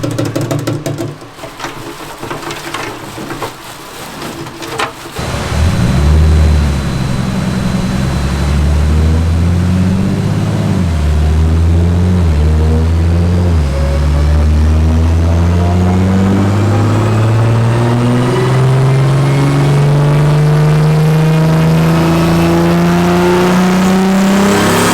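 A modified BMW engine revs hard on a dyno, starting with rough lower running and then surging into a loud sustained pull. Its pitch climbs steadily for about twenty seconds, and no one talks over it.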